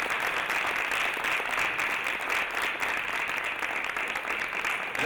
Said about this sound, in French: Je veux de vifs applaudissements pour le ministère.